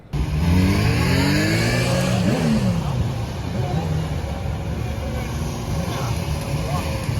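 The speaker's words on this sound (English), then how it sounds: "The convoy, led by an electric car carrying Prince William and his wife Kate, arrived" A royal convoy led by an electric car arrives at a Prime Minister's office. Engines swell and pass close by with a rising and falling whoosh, then settle into a steady traffic rumble, with a faint murmur of voices underneath.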